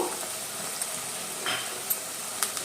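Ivy gourd (dondakaya) frying in oil with curry leaves and green chillies, a steady soft sizzle and crackle running throughout with a few brief sharper pops.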